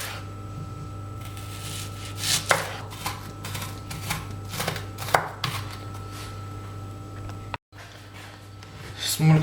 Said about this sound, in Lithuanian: Svogūną reikia smulkiai supjaustyti.